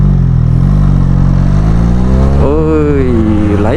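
Benelli Leoncino 500 motorcycle fitted with an aftermarket exhaust, idling with a deep, loud burble before a sharp rev climbs and falls near the end, close to the listener.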